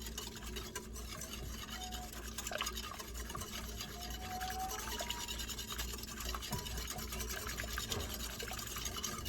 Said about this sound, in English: I'm going to whisk that until the pudding is thoroughly incorporated into the